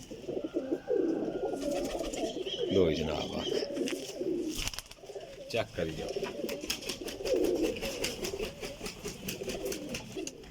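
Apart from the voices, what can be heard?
pigeons cooing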